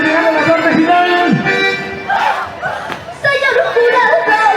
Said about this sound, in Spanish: Los aplausos. Aplausos.